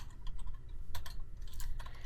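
Computer keyboard typing in a quiet room during an Excel spreadsheet tutorial, a short run of close, irregular key clicks with a couple of louder bursts, no voices.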